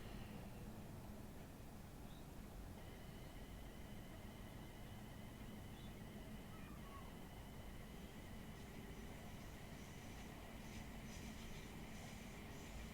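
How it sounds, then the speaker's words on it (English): A Class 700 train in Train Sim World 3 rolls along with a quiet, steady rail rumble, while high flange squeal tones ring out faintly and persist over it from a few seconds in. "Nice flange sounds."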